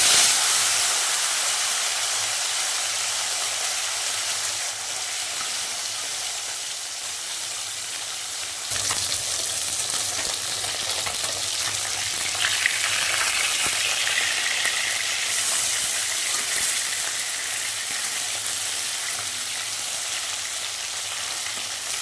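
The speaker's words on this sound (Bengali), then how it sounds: "আর মাছগুলো ভেজে নেব।" Bhola fish fries in oil in a wok, a steady loud hiss and sizzle lasting over twenty seconds with a small shift midway as the pieces are moved, no voices.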